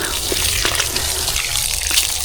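Irrigation water gushing steadily on a dwarf coconut farm in hot weather, a loud continuous wash of flowing water close by with faint splashes and no speech.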